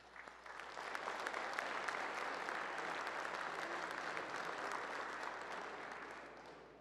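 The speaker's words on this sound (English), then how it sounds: "Please join me in a warm round of applause for all of them." A warm round of applause from a forum audience at a City Club event thanking its sponsors: steady, dense clapping that swells in the first second, holds, then gently tapers, fairly distant and with no talk.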